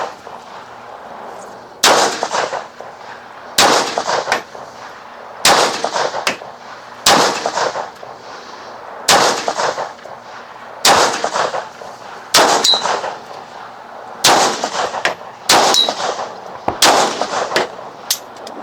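Pistol shots on an Israeli outdoor range, fired from a Beretta or Jericho handgun, ring out as sharp, loud reports. They come in about a dozen evenly spaced single shots, each with a brief ringing tail, and no talk is heard.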